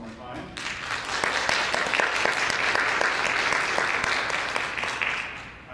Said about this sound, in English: give them a round of applause one more time